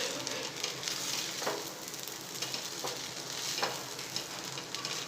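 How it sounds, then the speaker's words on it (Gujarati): Coriander being stirred into vegetable Chinese fried rice in a hot pan, giving a steady close sizzle with soft scraping stirs throughout. "હવે આપણે મિક્સ કરી લઈશું ધાણાને પણ."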